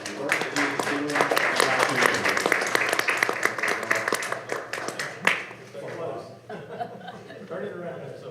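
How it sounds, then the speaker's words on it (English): A city council meeting audience in Greer, South Carolina, bursts into applause for about five seconds, with some laughter and chatter mixed in, then the clapping fades as people talk nearby. "let's give a big round of applause to Katie and the work that he is doing."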